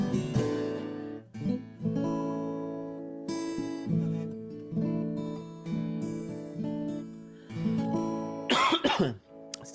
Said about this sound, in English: Still got a little cough.